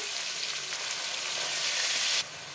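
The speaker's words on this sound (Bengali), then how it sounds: "আলুগুলোকে ভালো করে লাল করে ভাজতে হবে।" Potatoes with turmeric, chopped tomato and onion paste fry in a pan, producing a close, steady sizzle that swells slightly before easing to a softer hiss near the end, with no voices.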